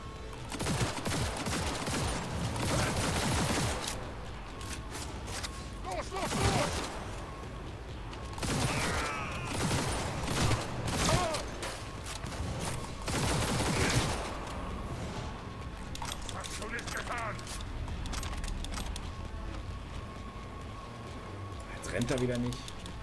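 Gunfire in the video game Cyberpunk 2077, with repeated bursts and volleys of shots under someone talking and game sounds throughout.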